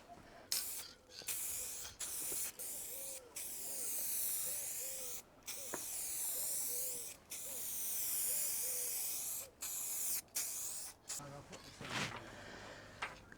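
Aerosol spray can painting a motorcycle panel during restoration: long loud hissing bursts separated by short pauses, close to the microphone, with a clatter near the end.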